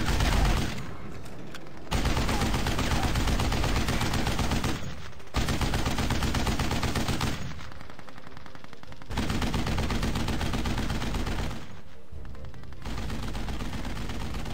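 Heavy machine gun fire in the Company of Heroes: Tales of Valor WWII strategy game, loud sustained bursts of rapid automatic fire broken by short pauses over roughly fifteen seconds.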